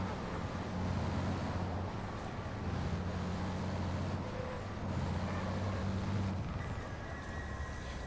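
Truck air brakes hiss in a truck racing video game of the FIA European Truck Racing Championship, sounding as steady bursts over a constant loud engine drone throughout.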